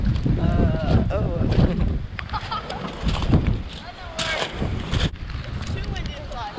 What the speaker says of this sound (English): Too windy to fly.